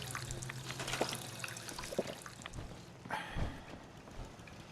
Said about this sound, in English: grab a quick drink of water